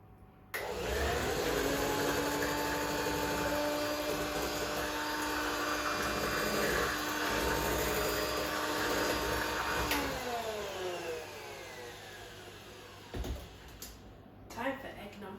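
An electric mixer runs at low speed through banana cake batter, giving a steady close whine with a constant motor hum that softens as it stops near the end, followed by a few light knocks.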